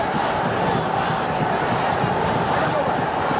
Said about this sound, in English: Capacity crowd here. in the Sher-e-Bangla National Stadium.